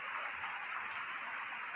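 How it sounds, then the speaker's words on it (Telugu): Heavy rain pouring onto metal roof sheets, a dense, even hiss that holds steady and faint throughout with no other sounds. "జోరుగా వర్షం పడుతుంది,"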